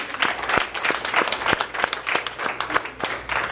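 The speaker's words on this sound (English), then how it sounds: "Please clap for that." Applause from an audience at a nurses' town hall meeting with a state representative, a steady patter of many hands clapping at close range with no talking over it.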